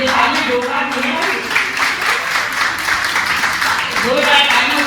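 Loud, dense applause from a crowd at a Women's Day society event welcoming guests, a continuous wash of clapping with voices mixed in throughout.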